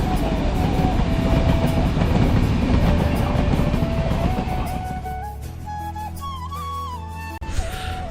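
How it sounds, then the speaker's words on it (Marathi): The Ratnagiri–Diva passenger train rumbles past on the rails at a station on a foggy winter morning, loud and close, with rhythmic clatter; the noise eases and a horn-like tone follows as it moves on. "आता समोरून आपली ट्रेन येईल हवा हो."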